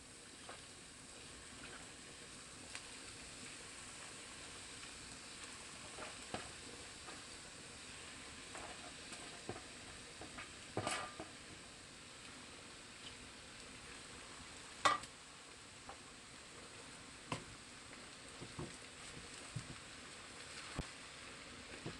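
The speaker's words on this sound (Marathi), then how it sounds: "चिरलेला पालक घालायचा आहे।" Chopped spinach frying in a pan, a steady low hiss and sizzle with scattered scraping clicks of stirring, fairly faint and without talk.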